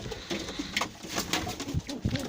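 Pigeons coo and rustle inside a coop, several soft throaty calls in quick uneven bursts close by, with light wing and body movement between them and no speech.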